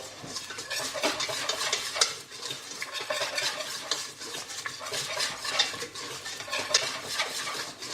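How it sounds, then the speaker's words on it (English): A spoon stirs a butter and flour roux cooking in a pan, with rhythmic scraping and clinks against the metal over a light sizzle, close and continuous without talk. "We're going to slightly cook our roux out."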